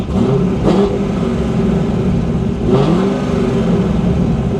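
Cammed Corvette V8 with a manual transmission, running rough at idle and revving twice, each blip swelling then settling back into a loud, choppy, lopey idle, close by with no talk.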